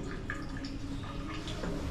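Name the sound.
shower water running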